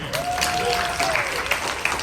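A crowd at a San Diego Comic-Con panel for Blade Runner comics breaks into brief applause, dense clapping with a whoop or whistle for about two seconds while a voice speaks over it.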